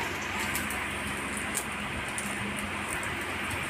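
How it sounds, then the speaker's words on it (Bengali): Pumpkin fries in a little oil, being turned over in the pan, giving a soft, steady sizzle and crackle throughout, fairly quiet and close with no talking. "অল্প তেলে উল্টো পাল্টে ভেজে নিচ্ছি"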